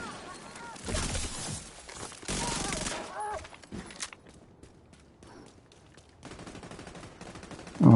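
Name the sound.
minigun gunfire in a video game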